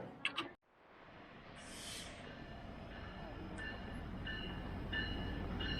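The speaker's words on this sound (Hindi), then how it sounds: "ये हमारी ट्रेन है जो कि हमें मेट्रो के साथ कनेक्ट करेगी। ये डबल ट्रैक है ट्रेन।" Double-track commuter train at a Toronto station, a brief clatter and a pause, then a low rumble building steadily as the train draws nearer and rolls past.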